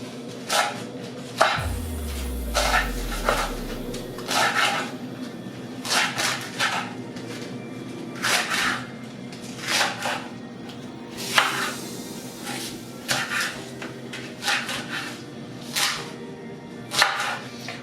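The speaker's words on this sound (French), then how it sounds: "Donc voilà, on va couper ça grossièrement" A knife roughly chops dry corn husks for apartment compost, with a steady run of crisp, irregular chops close by and a brief low hum near the start.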